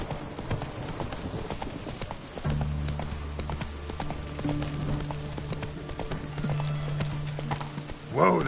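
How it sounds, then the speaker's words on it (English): Horse hooves clip-clop steadily at a walk in the video game The Witcher 3, with a low rumbling tone and brief neighing near the end, close and moderately loud. "Whoa there, Roach"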